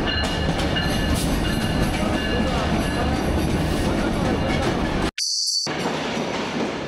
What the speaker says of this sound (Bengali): সময় যখন 8:30 বাজে তখনই আমাদের ট্রেন প্ল্যাটফর্মে প্রবেশ করেছে।